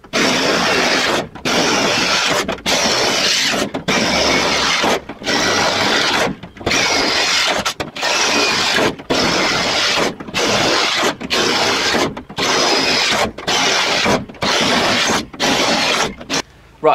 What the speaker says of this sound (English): Now we can get on with drilling these holes so we can weld straight through.